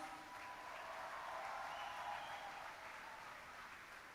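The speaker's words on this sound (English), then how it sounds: "Can you all please give them a huge round of applause?" Steady applause from an audience at the inauguration ceremony of the 64th annual NASA convention, fairly faint and distant, holding an even level for about four seconds with no talking over it.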